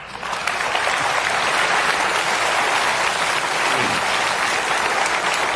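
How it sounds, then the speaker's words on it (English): An audience at a goal-setting talk breaks into sustained applause, dense and fairly loud, filling several seconds without pause. "Give them a clap. They've done well."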